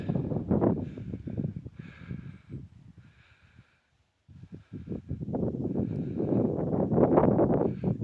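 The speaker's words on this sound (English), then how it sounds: "It's a bit windy." Wind gusts buffet the microphone on a wooded hilltop in uneven rumbling bursts, dropping to near silence for a moment midway before blowing hard again.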